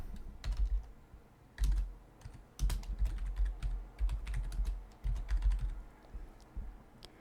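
Typing on a computer keyboard while renaming a chart in Excel, bursts of quick close key clicks broken by short pauses, with no voice over them.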